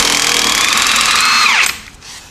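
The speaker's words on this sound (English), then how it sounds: "I got my impact over here. We're going to try and take this off." A cordless impact wrench runs in a loud, steady whir as it loosens a 3/4 inch tie rod end nut, then winds down abruptly and stops about two thirds through, leaving faint room noise.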